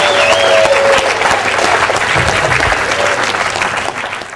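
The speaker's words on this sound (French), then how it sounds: "Est-ce que nous pouvons acclamer encore très fort le Seigneur?" A wedding congregation applauds and cheers at the ceremony, loud sustained clapping close by that holds steady and begins to taper near the end, with a faint voice over it.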